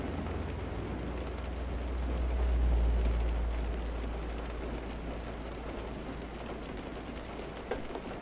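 Steady heavy rain from Euro Truck Simulator fills the scene alone as a dense, continuous hiss, with a low rumble swelling midway like distant thunder and no voices.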